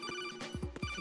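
An in-game phone rings in Metal Gear Solid 2, sounding as a few short electronic tones with a steady high buzz, close and clear with no talking over it.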